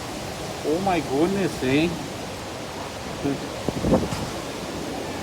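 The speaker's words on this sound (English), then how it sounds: "All the wind blowing." Strong storm wind in Austin gusts steadily as a loud, broad roar buffeting the microphone, with a person exclaiming over it.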